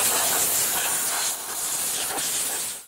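An air compressor gun blasts compressed air at residue in car interior crevices, a loud, close, continuous hiss that wavers slightly and then cuts off abruptly at the end.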